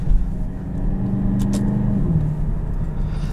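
A 2021 Aston Martin DBX SUV pulling hard under acceleration from inside the cabin, a steady loud low engine rumble with a rising tone over a few seconds, no talking.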